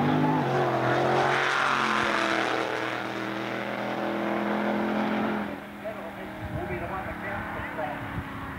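Drag race car making a run at Calder, a loud, sustained engine roar that rises and then drops away, with a commentator talking over it.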